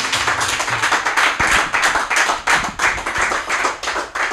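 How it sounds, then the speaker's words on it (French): A studio audience at a televised arts show claps loudly and steadily, close-sounding hand claps in an even, rhythmic patter that continues without talk. "Voilà, sous les applaudissements du public."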